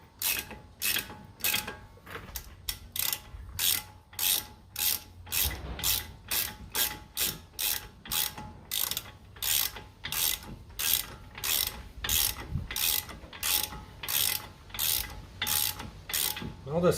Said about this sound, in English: But we're just going to use ratchet.